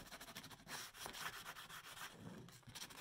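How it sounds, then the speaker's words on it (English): Hand sanding on wood, a rough scratchy rubbing in repeated strokes, close and fairly quiet, with no talking. "we're going to do a little bit of sanding."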